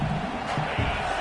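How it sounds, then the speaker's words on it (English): Stadium crowd at a football game roaring loudly to back the defense, a dense, sustained wall of cheering and shouting without pause. "Listen to this crowd just shaking the girders of this place, trying to help their defense."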